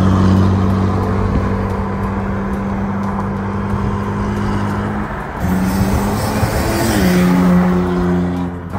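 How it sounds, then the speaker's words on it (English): A car engine drones loudly up close with a sustained exhaust note, dipping briefly then rising again as the revs climb. "so that you guys can hear Dini's exhaust."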